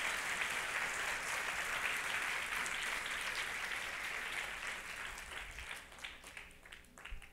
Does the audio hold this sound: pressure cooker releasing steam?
no